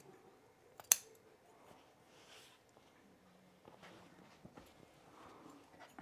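Scissors snipping through shearling fabric while trimming a sewn dog bed, with one sharp, close cut early on followed by quieter, scattered snips and soft fabric rustling in an otherwise hushed room without talk.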